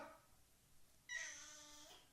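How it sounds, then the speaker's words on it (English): A house cat lets out one drawn-out meow in a quiet indoor room, clear and fairly close, after a faint earlier sound. "of course the cat comes in here."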